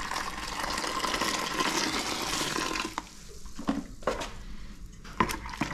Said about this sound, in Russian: Сначала мы выливаем кипяток